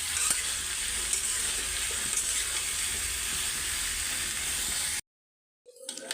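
Potato mash with pumpkin, salt and turmeric stir-fried in a pan gives a steady, close sizzle with scraping stirs for about five seconds, then cuts to a brief silence before a fainter noise returns.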